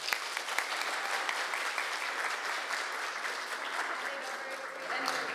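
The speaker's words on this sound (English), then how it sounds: "So let's welcome her with a big round of applause." Audience applause welcoming novelist N.H. Senzai at a college talk: a steady, dense wash of many hands clapping throughout, fairly loud and continuous with no voices on top.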